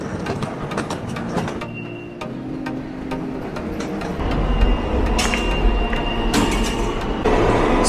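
Underground ride on a New York City subway E train heading toward JFK, with rumbling wheels and clattering rail joints, brief squeals, and the noise swelling louder in the second half as the car speeds up; no talking.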